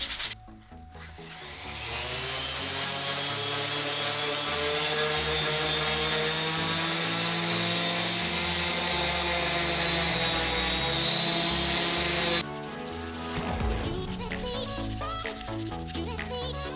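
Steady, continuous rubbing hiss of wood being sanded for a woodworking project, close and loud for about twelve seconds before the tone abruptly changes to rougher, choppier scraping.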